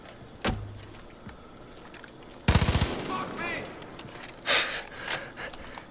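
Two sharp gunshots ring out in Far Cry 5, one early and a heavier burst midway, with scattered clicks and a brief rushing sound afterward.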